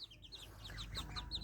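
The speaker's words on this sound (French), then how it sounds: "Pipou, et Neige, qui est la poule blanche." Hens, including a white one, cluck softly in a backyard coop while feeding in winter, giving a quiet series of short, rhythmic clucks over faint background noise.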